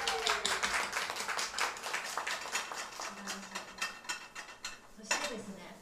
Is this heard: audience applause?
yes